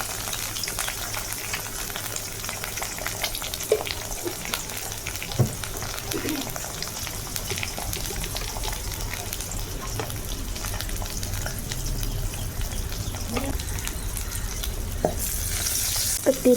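An egg fries in a pan with pepper, a steady close sizzle and crackle running throughout with occasional soft clinks, and light speech in the background.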